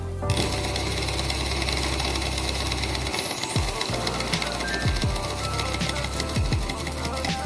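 A small Stirling engine runs steadily with a fast, even mechanical clatter and whir, close and fairly loud, with no voices over it.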